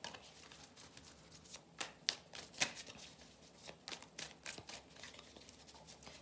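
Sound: shuffling and drawing reading cards

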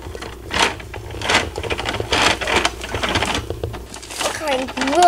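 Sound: hand crank turning on a Bruder toy recycling truck

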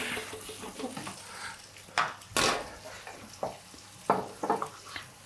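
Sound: chicken and prawn skewers frying in a hot pan

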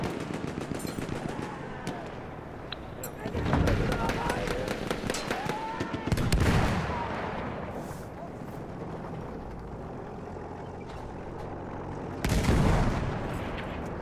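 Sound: artillery barrage explosions in video game Battlefield 1

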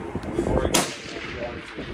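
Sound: rifle gunshot during long-range shooting

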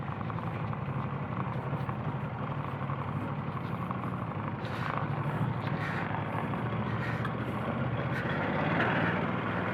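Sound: Ducati/BMW adventure motorcycle rear tyre spinning off-road

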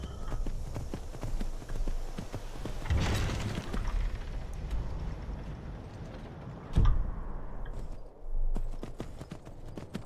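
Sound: horse hooves in video game Skyrim

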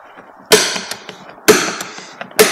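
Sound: automatic centre punch tapping pins out of a handle

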